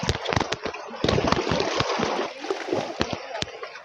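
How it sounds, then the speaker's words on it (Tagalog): Sea waves at Sanctuary Beach in Maragondon, Cavite slosh and splash against the shore as the high tide comes in, a close, continuous watery churning with repeated sharper splashes. "Lumalakas na rin yung alon."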